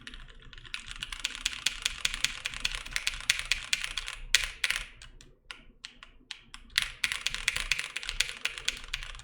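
Fast, close keystrokes on an OTD 360 Corsa mechanical keyboard come in bursts, with rapid clacking runs broken by slower, scattered presses in the middle and no talk.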